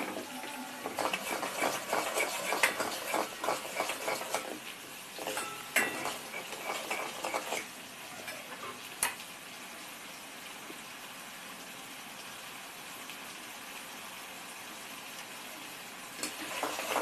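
Ground masala paste with garam masala and chili powder sizzles steadily as it fries in a pan for a Maharashtrian-style chicken curry. The sizzle is busy and fairly loud at first, then quieter with a few bursts later on.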